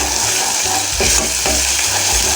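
Sambal rimbang frying in a pan with sugar and seasoning, a loud, continuous close sizzle with a couple of stirring scrapes, no speech.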